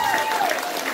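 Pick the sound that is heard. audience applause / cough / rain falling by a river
audience applause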